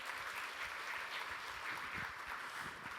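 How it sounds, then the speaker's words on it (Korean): Sustained applause from a ceremony audience at the launch of an industrial digital transformation alliance and support center, a dense, steady clatter of many hands lasting throughout at moderate distance, with no talk over it. "여러분 큰 박수 보내주십시오"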